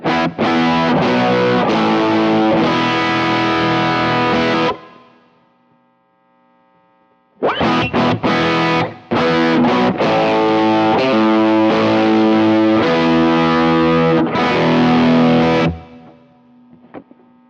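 Electric guitar played through a Keeley D&M Drive overdrive pedal with a boost placed after the drive gives thick, distorted strummed chords in two bursts split by a short pause, loud and close.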